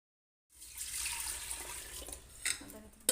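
Water from a kitchen tap runs steadily over rice being soaked for biryani, starting abruptly and continuing as a close, hissing splash with a brief louder gush near the end.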